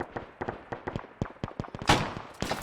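Rapid gunfire in a D-Day combat video game, with sharp shots cracking out in quick irregular bursts and a heavier blast near the end. The shots land at moderate distance with no voices.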